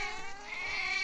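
A single close, drawn-out cat meow from the Roblox video game, a short tonal wail with clear harmonics lasting about a second.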